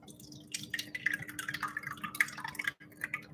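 Stirred kefir poured through a small strainer into a bowl, a close, steady trickle with dripping and splashing that breaks off briefly near the end before resuming.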